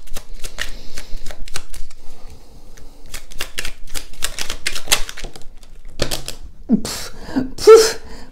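Oracle cards being shuffled close up in a series of crisp riffling flicks and taps, loud and alone, ending with a few louder shuffles.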